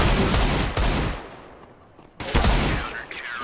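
Gunfire in Counter-Strike: Global Offensive during a competitive match, with a loud burst, a brief lull, then another close volley, a headshot landing among the shots.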